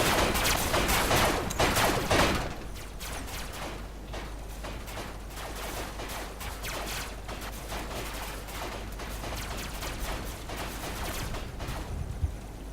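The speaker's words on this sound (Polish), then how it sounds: "Strzela do mnie jeden z jakiegoś miejsca stąd go nawet nie widać" Gunfire rattles in the Robocraft video game as rapid bursts of shots from an unseen enemy. The barrage is densest and loudest at the start, then continues as a sustained, slightly softer fusillade over a low mechanical hum, with no talk.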